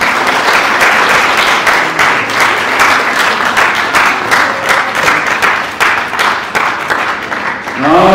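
Guests clap steadily at a wedding ceremony right after a ring is placed on the bride's finger, a dense burst of applause that stays loud for several seconds before thinning, with voices mixed in.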